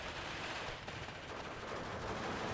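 Rifle fire in the video game Steel Division 2, about 100 meters away: a dense, continuous crackle of overlapping shots forming a steady, even roar with no pauses, heard alone.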